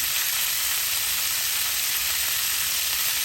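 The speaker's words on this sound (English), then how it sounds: "saute the asparagus" Asparagus sautéing in a hot pan gives a steady, dense sizzle that stays even and close throughout, with no voices over it.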